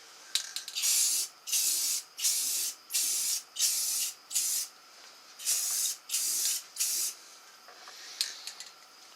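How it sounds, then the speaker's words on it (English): Clear Rust-Oleum enamel sprayed from an aerosol can onto Ford Ranger tailgate trim, about nine short, even hissing bursts in a steady rhythm, close and fairly loud with brief pauses between. "We're going to do that with some clear Rust-Oleum enamel. So we'll try to put some paint on this,"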